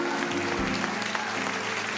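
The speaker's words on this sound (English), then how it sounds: "Applaud it into manifestation." Audience applause at a spiritual talk, a moderately faint wash of clapping running throughout with a low tonal hum or music underneath.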